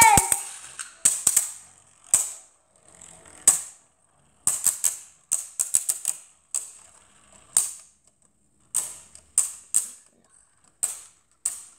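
Beyblade spinning tops clashing in a stadium: sharp, loud clacking impacts in irregular bursts and rapid flurries, each hit ringing briefly before short silences, with no talking.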